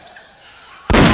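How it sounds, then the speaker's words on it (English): A single sudden loud gunshot blast bursts in after near-quiet in the Metal Gear Solid Peace Walker video game, close and sharp at the very end. "I heard gunfire!"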